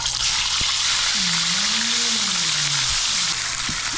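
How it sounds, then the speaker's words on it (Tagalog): Salted tilapia fries in hot oil, giving a steady, loud sizzle throughout, with a short rising-and-falling tone passing over it. "Yan, prito na po tayo."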